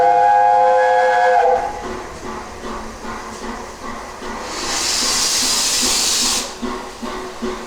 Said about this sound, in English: They've just put the blower on, so lots of smoke coming out of the chimney.